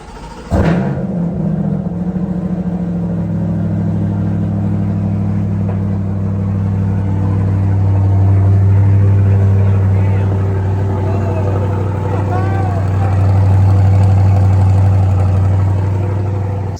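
A C8 Corvette fitted with an AWE Track Edition exhaust starts up with a sharp bark, then settles into a steady, deep rumbling idle that swells slightly twice. It is close and fairly loud, with faint voices in the background.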